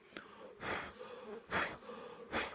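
Honey bees buzz at their hive while collecting pollen, three or four close, brief buzzing swells as individual bees fly past, over a quiet background.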